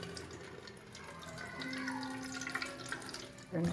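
Water pours onto a seedbed in an organic planting plot, a steady soft splashing that swells louder near the end, with no talking.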